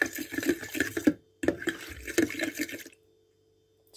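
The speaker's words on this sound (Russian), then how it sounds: "И осталось нам долить 100 грамм воды." About 100 grams of water splashes from a container into a bowl holding an egg and salt for homemade donut dough, pouring in uneven gushes for nearly three seconds before stopping.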